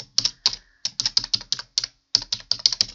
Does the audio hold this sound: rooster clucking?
no